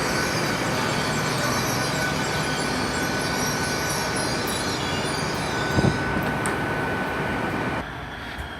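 Class 800 train 800-030, running on the rear of a pair with 800-036, pulls out of Swindon station with a steady broadband rumble and rail hiss, a brief clank near the end before the sound drops away.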